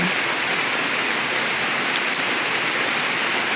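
Heavy rain falls outside a house in Mawab, Davao de Oro, after two days of nonstop downpour. It is a dense, even hiss that is loud and constant, with no voices.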